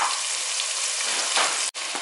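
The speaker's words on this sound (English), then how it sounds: "so I'm just going to quickly add my onions. Give it a stir" Onions fry in a pot with a dense, continuous sizzle close by, briefly interrupted near the end by a sharp knock as they are stirred, with no one talking.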